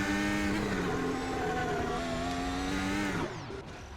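High-revving F1 2025 racing car engine in a video game at Monza, a steady loud whine holding pitch for about three seconds, then dropping sharply as the revs fall near the end.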